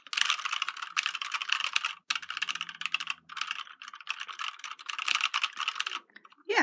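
Rapid clacking keystrokes on a gaming 60% keyboard, close and fairly quiet, continuing in steady bursts with a couple of short pauses and no talking.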